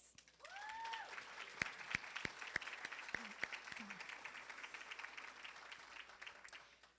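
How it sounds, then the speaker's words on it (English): Applause at a golf tournament award ceremony in New York, a sustained round of clapping from a crowd with a few sharper nearby claps standing out and brief voices calling over it. "a big round of applause for the director of the New York Golf Tournament"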